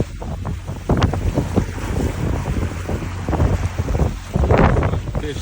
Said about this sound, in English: Super windy, choppy, white caps everywhere.